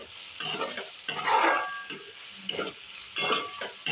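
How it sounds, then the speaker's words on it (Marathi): Finely chopped tomato fries with browned onion in a pan for butter pav bhaji, a crackling sizzle that surges in bursts as a spoon stirs and scrapes, close and fairly loud. "टोमॅटो चांगला फ्राय करून घ्यायचे"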